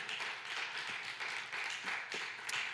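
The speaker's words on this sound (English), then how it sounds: "We clap our hands for God." Congregation clapping hands together at a church service, a steady, dense patter of many hands filling the room at moderate level, with a few sharper claps standing out near the end.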